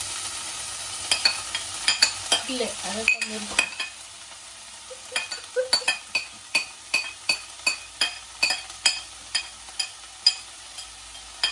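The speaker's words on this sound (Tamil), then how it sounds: "இந்த எண்ணெய் கொஞ்சம் ஹீட் ஆகினதும் வெங்காயத்தை போடுவோம்" Onions added to heated oil in a pan for a paneer curry, with soft frying crackle under a run of sharp, regular clinks and taps of a utensil against the pan, close and fairly quiet.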